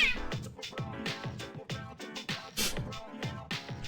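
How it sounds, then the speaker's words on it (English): A cartoonish cat in Persona 3 Portable meows repeatedly in short, rhythmic calls over a background of game music, fairly close and clear. "So Fuka's feeding the cat."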